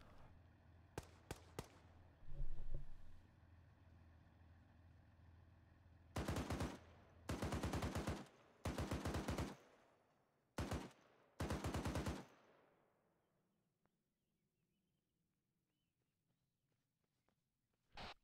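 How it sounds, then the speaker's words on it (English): Gunfire in a multiplayer shooter game: scattered single shots early, then several loud sustained automatic bursts at steady intervals, ringing off into near silence. "Where are those shots coming from?"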